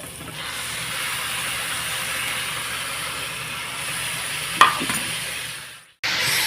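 Beetroot and carrot stir-fry in a pan with a steady, even hiss, broken by one brief stirring clatter before a short pause.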